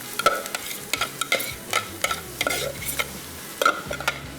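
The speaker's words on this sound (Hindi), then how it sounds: "ले जी, ये आ गया चिकन, प्याज में इसको किया मिक्स।" Chicken tossed with onions in a hot pan, a soft frying sizzle under repeated close, rhythmic scrapes and clacks of a spoon stirring, about two strokes a second.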